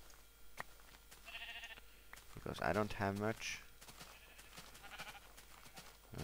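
In a video game, a sheep bleats a few times at moderate distance, wavering calls rising over a quiet background while a person speaks softly.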